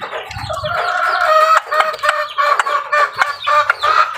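Chicks and chickens being fed on a rainy day cluck and squawk loudly and close by, a busy run of overlapping calls with short rhythmic bursts.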